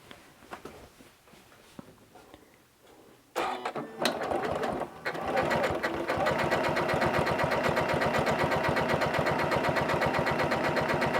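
A Janome CM17 sewing machine sews a U7 stitch with a twin needle. After quiet handling noises, the needle starts a rapid, even mechanical chatter that runs close and steady to the end.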